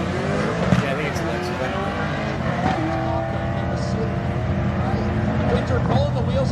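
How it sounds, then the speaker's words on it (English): A drag race car launches off the starting line at LS Fest East with its wheels lifting, shifting into second gear, hanging with a 240 in an H-pattern shifted race. Its roaring, rising engine and a brief tire chirp sit beneath an announcer's commentary. "Winter pulling the wheels off the starting line and in second gear, hanging with the 240, and he'll pick up the win."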